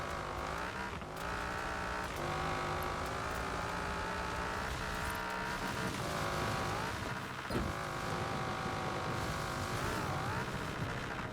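A limousine driven in Forza Horizon 4 hums with a steady engine drone that shifts pitch through gear changes, with occasional tire noise and brief thumps, continuous and moderately loud with no talk.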